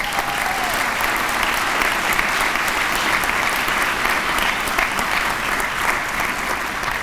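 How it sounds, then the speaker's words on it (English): Sustained audience applause for Board of Regents members at a Morehead State University convocation in a hall, dense and even clapping from a large crowd continuing throughout. "Would each of you please stand, and a round of applause for them in their service"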